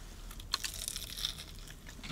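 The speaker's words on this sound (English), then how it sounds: "Super crunchy on the outside" Someone bites into crunchy, freshly fried pub food with spicy filling, giving a few soft, close crackling crunches over a faint background hiss, no talking.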